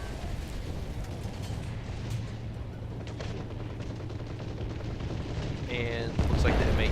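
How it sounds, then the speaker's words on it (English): Anti-tank gunfire and explosions from a War Thunder tank battle with an M18 Hellcat under attack from an anti-tank gun: a dense, continuous rumble of battle noise throughout, with a sharper, louder burst near the end. "looks like the M18, M19 anti-tank gun is attacking him on the side"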